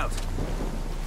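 A frag grenade detonates in the shooter game Ghost Recon Wildlands, a brief, heavy, booming blast filling the whole clip with no voices.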